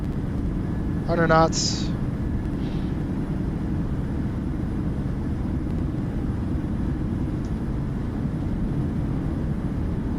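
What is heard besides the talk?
airliner thrust reversers on landing, flight simulator video game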